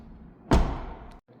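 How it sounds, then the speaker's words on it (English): The rear door of a 2026 BMW X3 M50 in Dark Graphite Metallic swings shut with one solid, close thud that rings briefly before the quiet returns. "we'll shut this door and we'll open up the front passenger door next"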